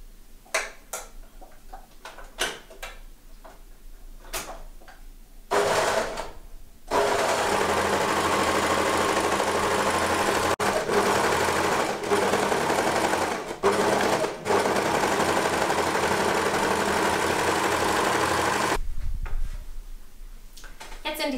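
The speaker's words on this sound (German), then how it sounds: "Ich nähe jetzt hier mit der Overlock-Maschine." Overlock sewing machine stitching fabric for a baby wrap jacket: a few short taps, then a loud, steady high-speed whirring run of about thirteen seconds with brief dips, stopping abruptly near the end.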